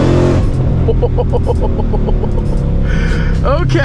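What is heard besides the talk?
Shelby GT500 engine accelerating loudly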